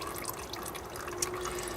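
Old oil drips steadily from a 1946 John Deere AR tractor engine, producing soft, close, repeated liquid drips over a constant low background hum.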